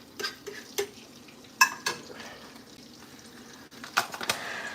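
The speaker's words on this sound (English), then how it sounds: "we got the onions in there. We got the butter all nice. It's sizzling up" Onions cook in butter in a frying pan on max heat, a soft steady sizzle running beneath a few sharp clinks and scrapes of a utensil stirring, close and fairly quiet, with nobody speaking.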